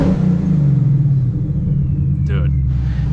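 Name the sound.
boosted Ford Mustang revving with AWE Track exhaust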